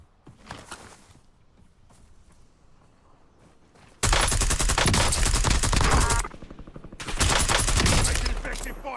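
Heavy automatic gunfire from the Call of Duty Warzone video game, set in Verdansk. It comes in loud, dense bursts after a quieter opening stretch, with a short lull between two sustained volleys.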